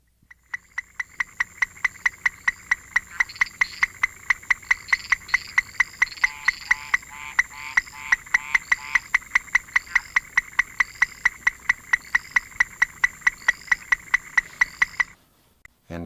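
Leptodactylus melanonotus, a small tropical frog, calls at close range in a rapid, regular train of sharp clicking ticks, dozens in a row, loud and steady for about fifteen seconds before stopping abruptly.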